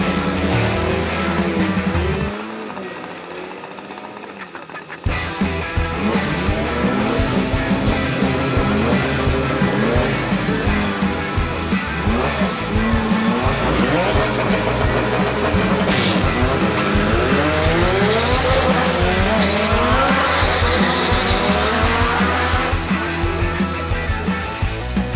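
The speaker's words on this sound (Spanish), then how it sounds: "tenemos el launch control en 4000 revoluciones, pero sale bastante muerta" A turbocharged Honda CR-V launches with launch control down a race track, its engine roaring loudly and continuously as it revs and pulls through gears, with a brief lull before the sustained run.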